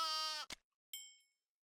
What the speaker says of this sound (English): Yeah, it seems like they're basically sheep.